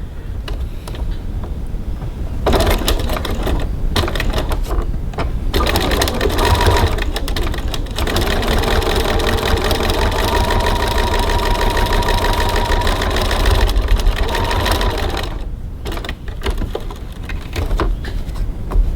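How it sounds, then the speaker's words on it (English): A sewing machine top stitching close to the folded edge of a fabric top band at stitch length 3.4, running in long steady buzzing bursts with brief pauses between them, near and alone. "I'm going to stitch pretty close to the folded edge of my top band."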